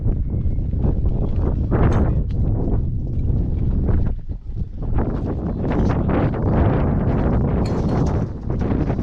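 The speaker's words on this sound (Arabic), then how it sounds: "هنا صار طبعا الهواء هواء عالي." Strong wind gusting outdoors in the open desert on an Iraqi falconry hunting trip, a continuous loud rumbling buffet of wind noise across the microphone with brief lulls.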